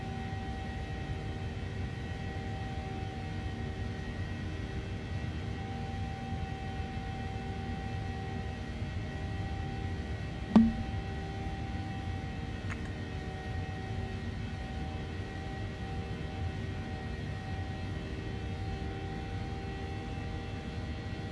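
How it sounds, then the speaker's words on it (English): A steady, droning aircraft engine hum in a flight simulator game, with a constant low rumble and faint tonal whine, continuous throughout with one brief click midway. "Engine sounds pretty damn good."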